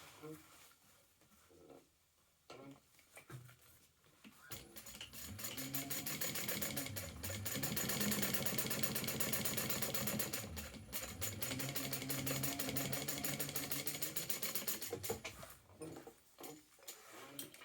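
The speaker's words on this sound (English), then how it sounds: "Flip that side panel out and top stitch" A sewing machine runs steadily through a long top-stitching pass along a side panel of a garment, its motor hum rising from a few short starts into a sustained whir that stops near the end.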